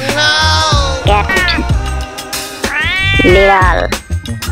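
A cat meows loudly and insistently, a series of long, drawn-out wails with rising and falling pitch, close by and with no other sounds.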